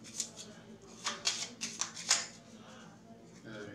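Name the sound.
shuffling a deck of game cards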